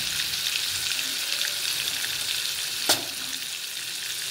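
Mustard seeds, turmeric and asafoetida sizzle in hot oil for a Maharashtrian veg kofta curry. A steady close crackling hiss carries on throughout, with one brief sharp pop near the end.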